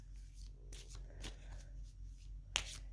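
Oracle cards are shuffled by hand close up, a few soft riffling swishes and slides followed by a sharper snap of cards near the end, quiet and alone.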